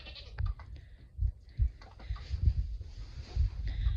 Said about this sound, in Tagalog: ayan oh merong mga kambing dyan